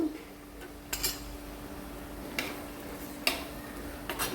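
A spoon clinks and scrapes now and then against a pan while spicy prawn gravy is mixed, the taps faint and sparse over a low, steady kitchen hum.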